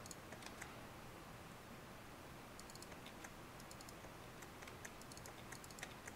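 Typing on a computer keyboard while writing code for the game ArmA 3, soft scattered key clicks in quick irregular clusters, faint and close, over a steady background hiss.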